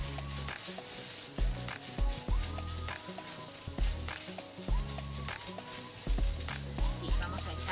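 Ground meat for lasagna being mixed in a pan, a continuous sizzle under repeated scraping and stirring strokes, with a strong tonal background of music throughout.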